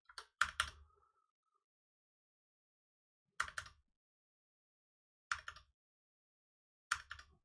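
Four short bursts of keystrokes on a computer keyboard, spaced apart with silence between them, close and clear with no talking.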